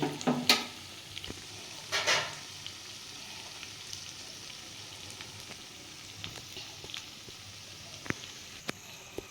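Pakoras made from leftover rice fry in a pan with a soft, continuous sizzle and a few sharper pops and utensil clicks early on, fairly quiet and close.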